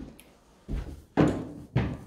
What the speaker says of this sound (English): So that's the building door